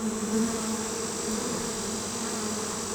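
Honey bees in a brood hive, where a young bee has just emerged, make a continuous soft buzzing hum that stays even and fairly faint throughout.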